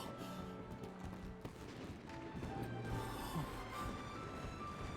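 Fireworks in the game Genshin Impact, a steady dense crackle of bursts and pops running throughout, loud and continuous with no clear pauses.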